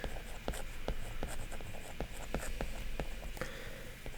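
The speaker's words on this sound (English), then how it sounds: "Let me write down the principle over here." Hand-writing of text with pen strokes scratching and tapping in a steady, quiet rhythm, close and alone against a faint room hiss.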